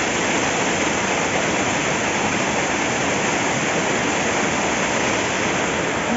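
Mountain stream rushing down a high-altitude nala in Ladakh near Singe La, a loud, continuous broadband roar of churning water, close and unbroken, with no voices.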